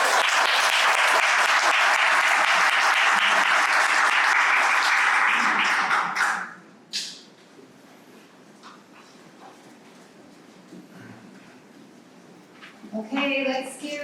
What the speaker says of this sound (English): let's give one round of applause for all of the finalists